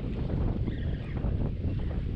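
Strong wind gusts across a small fishing boat out on the water while fishing for tautog off New Jersey, making a continuous rough roar and rumble close to the microphone.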